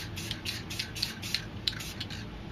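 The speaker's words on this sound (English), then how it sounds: "I'm going to spray some black down here to add some shading to the moon" Short repeated bursts of black spray paint hiss from an aerosol can, about eight quick, fairly faint puffs in steady rhythm, each with a soft click, shading a moon on a stencil painting.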